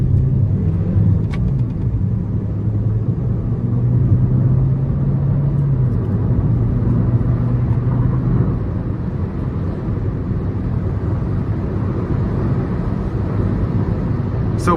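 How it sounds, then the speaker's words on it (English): Turbocharged four-cylinder engine of a 2017 Chevy Cruze LT pulling under throttle, a steady low rumble and drone heard from inside the car for the whole stretch, with no talking over it. "We're gonna give it some throttle here."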